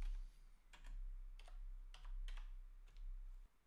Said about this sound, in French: Et vous pouvez taper des commandes.